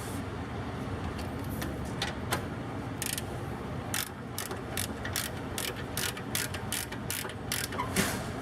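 Ratchet wrench tightening grade 8 bolts on a Dana D44/D35 axle through the brake shoes, a steady run of quick, close clicking strokes in repeated bursts over low garage background noise.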